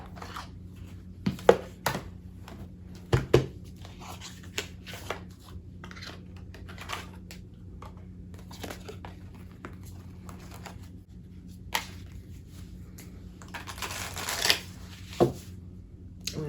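Tarot card decks being shuffled, with soft riffles and flicks in scattered bursts over a faint steady hum, louder flurries near the end, no talking.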